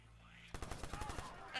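Gunfire from a shotgun in the video game Watch Dogs: after a quiet moment comes a quick series of around eight sharp shots in fairly even rhythm, moderately faint overall.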